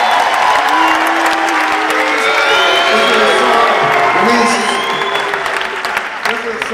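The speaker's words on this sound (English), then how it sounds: "let's give a big round of applause" A rock concert crowd claps, cheers and whoops at a show, loud and sustained, with shouted voices rising over the clapping before it thins near the end.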